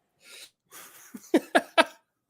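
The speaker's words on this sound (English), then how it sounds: "Hang on, I got to sneeze." A few sharp breathy intakes build up, followed by a quick burst of snorting, sneeze-like exhalations close to the microphone.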